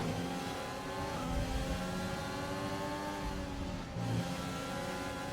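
Race car engine in an F1 video game, held at a steady high-revving drone down the front stretch, loud and continuous with a brief dip in pitch near the end, no talk.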